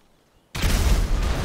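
In GTA V, near silence breaks into a sudden, loud explosion, followed by a heavy roaring rumble that holds for the rest of the moment.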